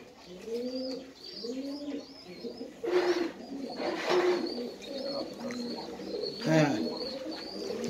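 Panki breed pigeons in cages coo close by in repeated, overlapping throaty phrases, with a few short chirps among the steady rhythmic calls.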